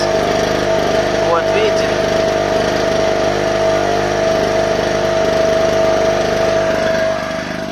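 A Kraft&Dele KD109N petrol generator runs at a steady drone with a constant engine hum and a strong tonal whine, loud and close, holding unchanged for the whole stretch before easing slightly at the end.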